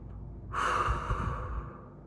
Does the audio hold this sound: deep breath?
yes